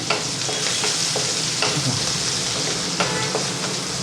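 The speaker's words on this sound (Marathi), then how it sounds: "कांदा छान आपल्याला गुलाबी रंगावर परतून घ्यायचा आहे" A small onion sautés in a pan over high heat for methi potato bhaji, giving a steady close sizzle with repeated stirring scrapes.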